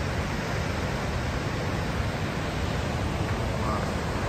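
Rushing water at the top of a waterfall on the Yellowstone River forms a steady, dense broadband roar, even and continuous, heard close with no talk.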